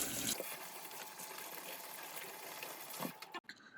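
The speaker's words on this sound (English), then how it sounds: "So let's wash our hands and get ready for our day." Hands washed under a running kitchen tap, giving a steady hiss of water that continues alone for a few seconds before cutting off, with no one talking.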